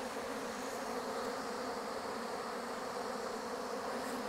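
Bees droning around an opened hive during honey pulling, an even, continuous buzz from many insects nearby, unbroken and without speech.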